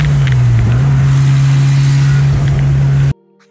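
Mazda RX-7 13B rotary engine with a bunch of blown gaskets, running loud and close with a steady, rough droning buzz and slight pitch wobble. It cuts off abruptly near the end.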